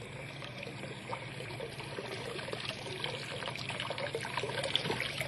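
Water trickles through a lifted wooden gate on a shallow river, a thin, continuous dribbling flow at moderate distance with no voices over it.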